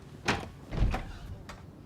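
A door is forced with a few heavy thuds and bangs, three or four separate impacts with rattling, fairly close and moderately loud, with no voices.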